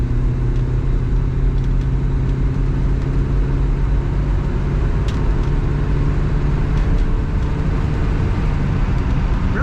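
A 1967 Chevrolet Camaro Convertible driving on a road, its engine giving a steady low rumble with road and wind noise throughout, heard from inside the vehicle.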